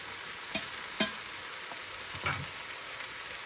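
Cabbage stir-fries in a pan with soy sauce, a faint steady sizzle broken by a few scraping stirs and soft clacks, close and quiet.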